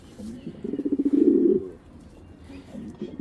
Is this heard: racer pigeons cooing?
yes